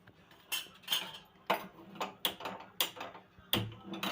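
A household gas stove being switched on and lit: a series of crisp, close metallic clicks and ticks from the knob and igniter, repeating unevenly several times in a quiet kitchen.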